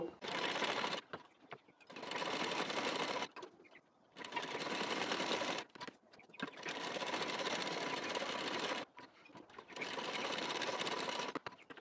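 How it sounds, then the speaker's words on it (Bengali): A sewing machine stitches the front part of a size-44 blouse with a nylon lining attached, running in four long, steady bursts separated by short pauses, loud and close with no talk. "এখন পুরোটা সেলাই দিয়ে নেব।"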